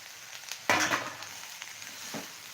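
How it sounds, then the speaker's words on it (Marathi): Greens frying in a pan are stirred, giving a close burst of scraping and sizzling followed by a softer sizzle with light stirring knocks. "तर भाजीला व्यवस्थित असं हलवून घेतो"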